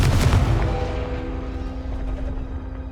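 Confringo fire spell blast in Hogwarts Legacy, a loud booming explosive burst with a deep low rumble that decays over a couple of seconds into a fading ringing tail.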